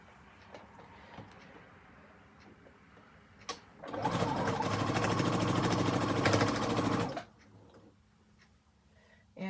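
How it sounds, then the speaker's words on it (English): A sewing machine runs steadily for about three seconds, stitching a quarter-inch seam on either side of a diagonal line on a quilt block. The whir is loud and continuous, with quiet handling sounds before and after. "we're going to sew a 1/4 inch on either side of the line"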